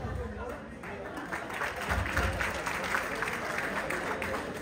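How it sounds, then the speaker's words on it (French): Applause from a crowd at a gala, steady and moderately loud, with some voices mixed in. "applaudir encore très fort pour Madame le ministre"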